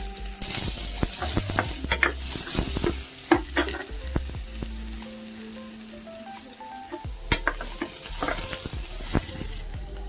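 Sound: onion with cinnamon, cloves, cardamom frying in pan

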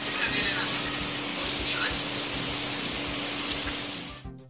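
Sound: floodwater from heavy rain flowing under a flyover

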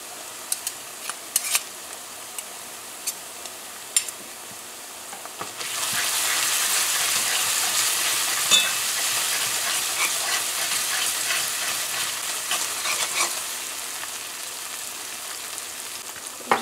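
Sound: tomato paste frying and being stirred with cabbage in pot

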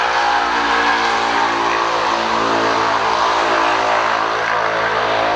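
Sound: loud motorcycle engine noise

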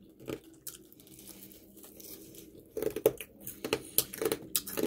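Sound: crunchy chewing of crispy pork

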